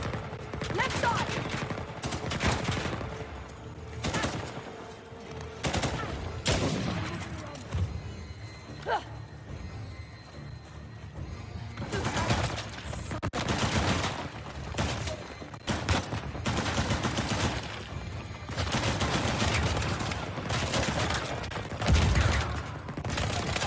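Bursts of gunfire from Uncharted: The Lost Legacy crackle on and off over a busy game soundscape, some shots clustered in quick volleys, others spaced apart.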